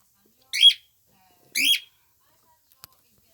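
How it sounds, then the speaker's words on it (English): Pet bird giving two short, clear chirping calls about a second apart, close and isolated in a quiet room, followed by a faint click. "Here she is, Tweety the bird."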